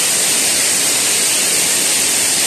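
Kagerō Falls pours in a steady, dense roar of falling water, loud and close, with no voices over it.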